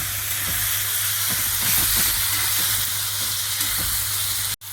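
Jackfruit and potato pieces added to fried spices in a hot pan sizzle loudly and steadily, with soft stirring scrapes over the hiss and a brief pause near the end.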